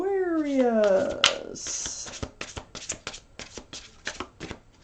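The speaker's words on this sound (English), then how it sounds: "One more shuffle." Rapid riffling and crisp slapping of tarot cards being shuffled nearby, a quick flurry followed by a run of separate taps, with a brief tonal chirp at the start.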